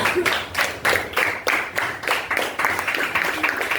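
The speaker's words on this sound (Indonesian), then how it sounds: "tepuk tangan buat Vina" A group claps for Vina in an Indonesian computer-science coding class, a brief burst of rhythmic hand claps in quick repeated strokes, fairly close and lively.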